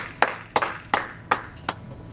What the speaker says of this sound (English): Clap those hands and give him glory.